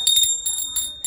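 A small ringing handbell for a temple aarti rings in quick repeated strokes with bright sustained tones, close and clear.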